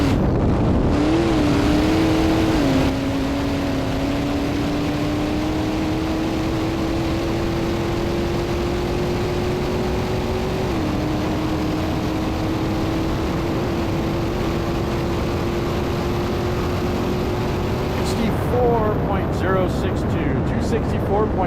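An AA Blown Fuel Modified Roadster makes a land speed record run at El Mirage, its engine holding a long rising whine that shifts gear as it speeds away, under a track announcer's commentary.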